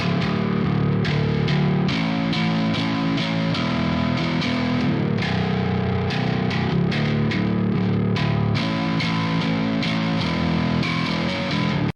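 Bass guitar played through a Neural DSP Archetype Nolly distortion plugin, a thick, loud, continuous distorted tone with rhythmic picked notes running steadily throughout, no talking.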